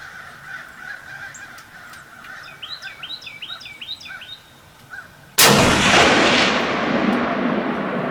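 A flintlock rifle fires a single loud, close shot that rolls on into a long echoing decay during a late-season deer hunt, after a stretch of crows cawing in the distance.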